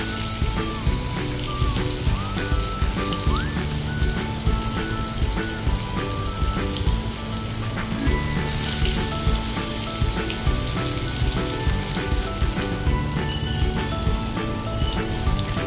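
Cut potatoes frying in hot oil with five-spice, a loud dense crackling sizzle that continues steadily, with scattered pops and a brief brighter hiss midway.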